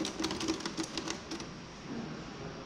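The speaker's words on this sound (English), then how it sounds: "And of course, the typewriter." An antique typewriter in a museum, its keys clacking in a quick, uneven series of taps for about a second and a half, then the sound thins into quiet room noise.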